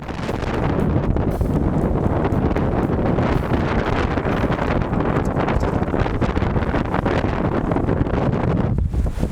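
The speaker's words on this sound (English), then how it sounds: "we're experiencing the most windy day I've ever experienced in my life." Strong wind buffets the microphone outdoors on an extremely windy winter day, a loud, steady roaring rush that never lets up.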